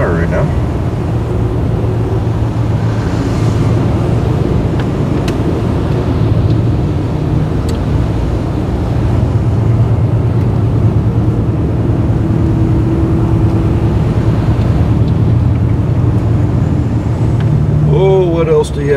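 An early-1970s rear-wheel-drive car with a big V8 creeps through traffic at about 9 mph, its low engine rumble and road noise steady and close, with occasional passing traffic.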